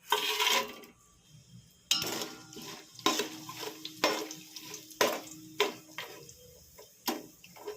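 Whole garam masala spices dropped into hot oil for biryani, giving a run of sharp clinks and pops at a steady pace with a soft sizzle between them, close and fairly clear.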